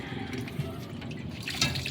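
Water dripping and trickling from a residential pressure tank with a punctured rubber bladder, close by: a wet, irregular splashing with a few distinct drops standing out against a steady liquid background.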